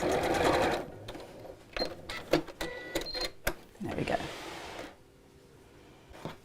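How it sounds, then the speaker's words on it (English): A sewing machine stitches a fabric tablet sleeve close to the edge along a crease within the seam allowance, running in short, loud, close bursts with brief pauses, then a quieter stretch at the end. "I'm just going to sew this close to the edge, right over where that crease was that I made"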